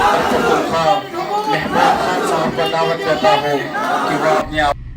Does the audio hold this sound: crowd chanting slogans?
yes